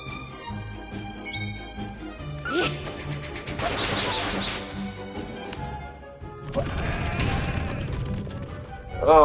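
A sheep bleats several times in a steady, buzzy rhythm, then loud crashes and whacks break in, with a noisy burst of impacts later in the stretch.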